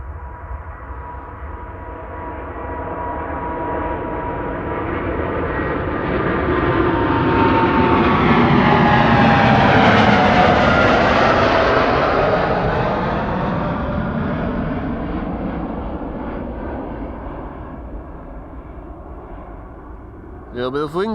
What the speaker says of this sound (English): This is KLM flight 879 to Bangalore.